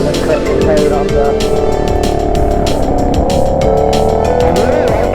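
A 2021 Triumph Trident 660 motorcycle leans through a corner, its engine a steady, loud drone close to the rider, with wind rush and a voice talking over it.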